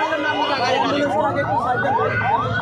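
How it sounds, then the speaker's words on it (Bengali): A wailing ambulance siren rises and falls in steady repeating sweeps, loud and fairly near, at a blocked road, with voices chattering over it. "অ্যাম্বুলেন্স ওটা অ্যাম্বুলেন্স"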